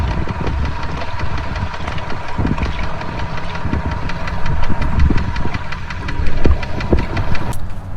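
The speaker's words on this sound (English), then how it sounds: "I ended up getting a weird sound from my engine" A bass fishing boat's engine on a Florida lake runs with an irregular, rhythmic knocking and ticking over its steady drone, loud and close.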